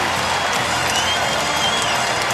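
A basketball arena crowd at the end of a Virginia Tech versus Louisville game applauds and cheers in a dense, continuous roar, with a commentator's voice faintly under it.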